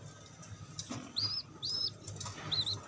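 A tippler pigeon's wings flap in short bursts, with a few high thin chirps over a low background hum.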